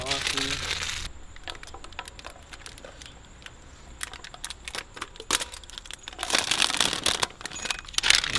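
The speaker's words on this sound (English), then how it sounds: "He already started unwrapping it." Packaging around a Corsa Extreme valved cat-back exhaust for a 2022 widebody Charger is torn and unwrapped, with crinkling plastic, rustles and crackles in bursts, loudest at the start and end, while people talk nearby.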